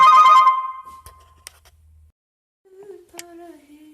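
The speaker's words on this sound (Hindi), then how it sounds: "तो मम्मी का फोन आ गया था चंडीगढ़ से" Phone ringtone for an incoming call from mother, a bright electronic tone burst at the start, then a few soft clicks and faint tonal notes with no talk.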